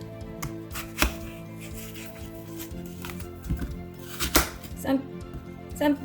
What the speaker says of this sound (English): I'm just gonna cut the apple into cubes like this.